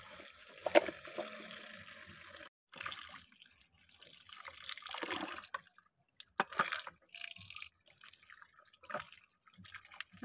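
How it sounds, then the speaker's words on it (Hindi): Meat being rinsed with water in a pot in a home kitchen: intermittent splashing, trickling and dripping close by, broken by short quiet gaps, with no talking. "हाँ जी तो जड़ा ना हुण मैं गोश्त धोन लगी हाँ"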